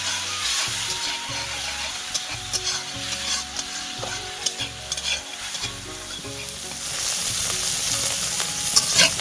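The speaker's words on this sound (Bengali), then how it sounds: "আবারও মশলাটাকে একটুক্ষণ কষিয়ে নেব।" Spice paste sautéed in a pan with a little water, giving a steady bubbling sizzle with repeated scraping stirs of a spatula, close and fairly loud, growing a bit busier toward the end.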